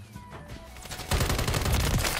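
Automatic gunfire from a gun in the video game Modern Warfare 3, faint clatter building into a loud, dense burst of rapid shots that carries on to the end.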